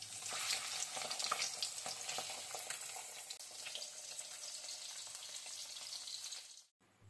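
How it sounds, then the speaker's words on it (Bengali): Fish fries in a pan with a steady, fairly quiet crackling sizzle and small pops throughout, cutting off abruptly near the end. "তো এখন আমি মাছটা ভেজে নেব"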